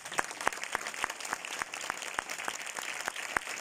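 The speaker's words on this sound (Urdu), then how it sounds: "ایک بار آئیے ہم سارے مل کر بائبل مقدس کے لیے زوردار تالیاں بجائیں." Steady clapping from a church audience applauding the Bible, a run of sharp evenly spaced claps forming a rhythmic beat that carries on through without talk.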